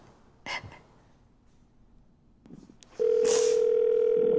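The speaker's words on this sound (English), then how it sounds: "At the tone, please record your message." A couple of faint clicks and rustles, then a steady, loud electronic beep of a voicemail answering machine sounds and holds.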